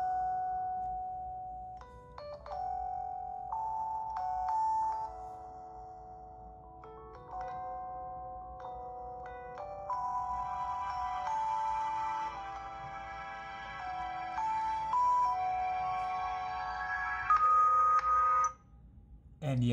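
Sony Xperia L1 phone's single speaker plays a melodic ringtone at maximum volume, a steady stream of bright, tinny tonal notes that grows busier and fuller toward the end, alone with no talking.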